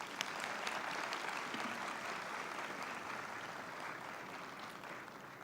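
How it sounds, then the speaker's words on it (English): Graduation audience applause for the Denning class of 2023, continuous crowded clapping filling a hall at an even level throughout. "you must give yourselves a huge round of applause."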